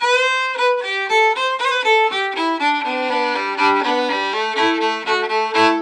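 A lively reel tune played on a single melodic instrument, quick notes running smoothly from the Old King's Reel into the King's Reel with no talking.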